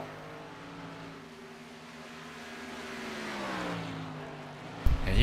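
Race car engine at a speedway oval as the driver lifts off the throttle, a steady harmonic drone that slides down in pitch, moderately loud, with a sharp burst at the very end.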